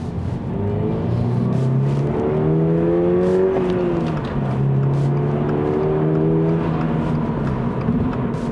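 Toyota GR86 GTS cruising at 80 km/h, a steady loud cabin drone of engine and tyre roar with a low wheel drumming underneath and gentle shifts in engine pitch, no talking.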